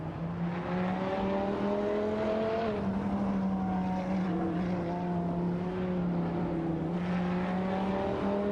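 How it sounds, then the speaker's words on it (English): Race cars in a racing video game, including a Dodge Viper GTS ACR, drone with a steady, sustained engine whine whose pitch shifts and climbs between gear changes, loud and continuous. "Kamikaze 38, in the Dodge Viper GTS ACR 99, is putting pressure on Captain Potato in the rough Tier 2 for that 8th position spot."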